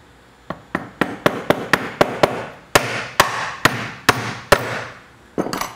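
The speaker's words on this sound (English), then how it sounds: "So I need to press this or hammer this bearing in from this direction." Sharp metal hammer blows drive a bearing into a mold, about fifteen strikes in an uneven series, close and loud, each ringing briefly, with a short pause midway and a final quicker pair.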